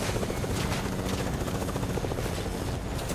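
Helicopter in the Fortnite video game, a steady, dense rotor thrum heard up close and continuously for a few seconds with no talk.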